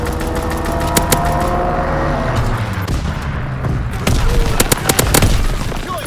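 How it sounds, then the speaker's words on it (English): Strafing-run gunfire in the video game Call of Duty: WWII, rapid sharp bursts of automatic fire and loud impacts over a rumbling engine drone, growing louder toward the end, with a voice calling out over it. "Strafing run inbound!"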